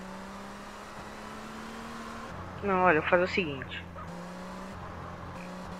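A luxury car drives in GTA San Andreas multiplayer, its engine a steady low hum running throughout, while someone speaks Portuguese briefly over it in the middle.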